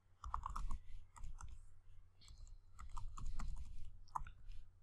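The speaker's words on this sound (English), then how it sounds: "And I'm typing my email ID over here." An email address is typed on a computer keyboard in irregular bursts of soft, close key clicks with short pauses between groups, quiet and without speech.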